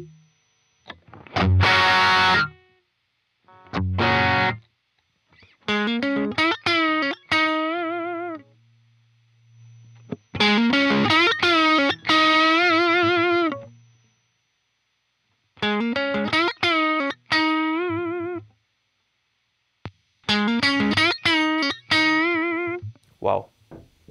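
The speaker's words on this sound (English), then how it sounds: "So here we have the Tube Screamer." An electric guitar runs through an Ibanez Tube Screamer overdrive pedal in several separate bursts of gritty, distorted notes and chords. Silent gaps fall between the phrases, and one quiet low hum sits under one of them.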